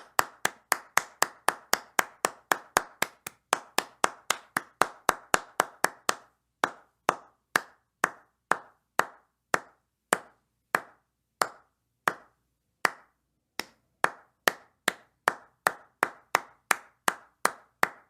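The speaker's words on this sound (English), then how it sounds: "This video is called One Person Clapping HQ Sound Effect" One person claps alone in a sharp, dry series of single claps, quick and evenly spaced at first, then slower and irregular with short pauses, close and loud with no voices.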